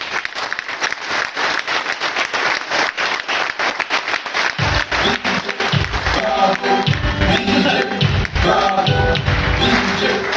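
An audience claps at an educational RTP session in Agra, a loud, dense round of many hands that grows fuller midway, with rhythmic thumps and music-like tones joining under it.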